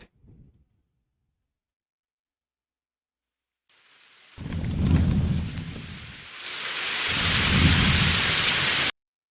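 Simulated rain and thunder from CG software start suddenly after silence, with steady hissing rain and two deep rolling thunder rumbles, then cut off abruptly.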